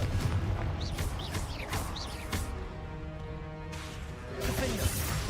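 Confringo spell explosions in the Hogwarts Legacy video game, repeated booming blasts and crackling impacts in dense, chaotic combat noise, with several sharp hits close together.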